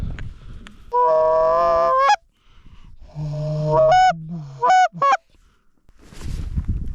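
Geese honk loudly in a Montana hunting field, a long sustained honk followed by a run of rising, overlapping calls and a few short honks, with wind noise at the end.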